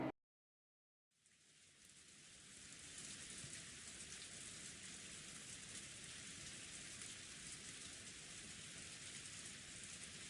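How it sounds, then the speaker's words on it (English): Steady rain patters against a window after a moment of silence, a dense, even hiss of drops that holds constant and fairly close throughout. "noticed the sounds of raindrops beating on the window. It had finally started to rain."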